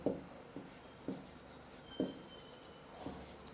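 Pen writing by hand on paper, short scratchy strokes in an irregular rhythm, close and quiet, with no talk.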